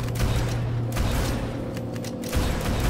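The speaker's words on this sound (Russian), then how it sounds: "Пальба, стрельба, 38-я волна." Gunfire from towers defending a late wave in Roblox Tower Defense Simulator rattles in dense, continuous bursts over low mechanical rumble, loud and steady throughout.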